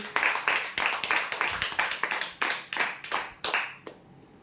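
Audience clapping for prize winners at a weekly lucky-draw ceremony, with a cluster of distinct, fairly close hand claps in an uneven rhythm that thins out and stops near the end.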